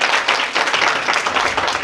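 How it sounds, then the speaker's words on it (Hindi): Children clap together for a student at a Teachers' Day school event, producing a dense, steady patter of applause that runs unbroken for about two seconds with no talk over it. "तालियां बजाओ बच्चों"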